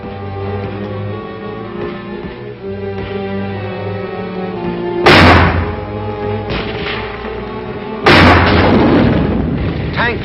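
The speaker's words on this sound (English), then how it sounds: "Tanks blast their way forward." Tank guns and mortar rounds boom in World War II combat footage, with two heavy, close blasts standing out over a continuous rumbling engine drone and the sound of battle.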